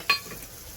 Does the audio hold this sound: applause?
no